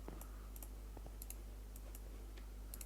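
Sparse, light clicks of keys being tapped at an irregular pace, quiet and close over a steady low hum.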